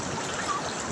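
Water flows in a steady, dense rush with no breaks.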